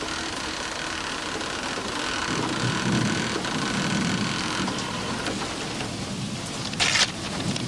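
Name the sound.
heavy rain and thunder from an arriving typhoon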